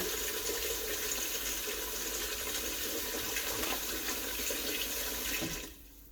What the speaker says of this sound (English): I'm going to add about 4 cups of water.